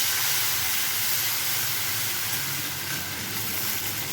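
Chopped tomatoes hit a pan of frying garlic and ginger, giving a steady, loud sizzling hiss that holds evenly throughout with no talking.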